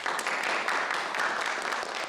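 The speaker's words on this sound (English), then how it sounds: "There'll be more applause." Crowd applause at a celebratory event welcoming Tibet back, a dense, steady wash of clapping hands that holds at even strength throughout, with no voices standing out.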